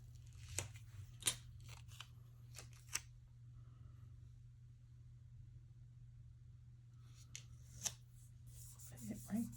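Scissors trim paper for a planner spread in several crisp, separate snips, close by over a steady low hum, with a quieter rustle of paper near the end.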